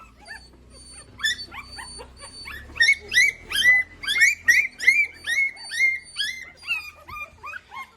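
Several young puppies, one so new its eyes are not yet open, whimper and yip in high, repeated cries that grow louder and more insistent as they are picked up, close by with no talk over them.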